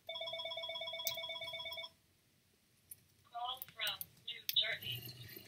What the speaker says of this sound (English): Call from New State of New Jersey is calling me.